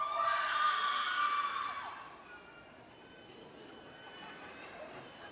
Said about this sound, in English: please hold your applause till the end.